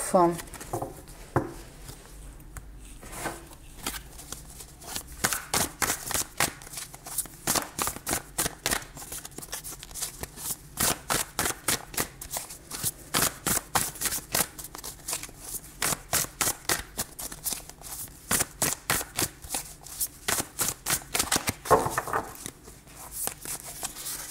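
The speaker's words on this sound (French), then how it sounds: "Alors, on va aller voir un petit peu plus loin avec le tarot." Tarot cards are shuffled by hand in a long run of rapid, rhythmic riffling flicks, close and crisp, with someone speaking softly at moments.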